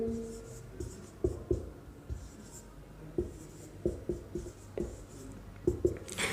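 Chalk or marker writing on a board during a maths class lecture, a series of short, sharp taps and strokes in irregular bursts, close by and fairly quiet.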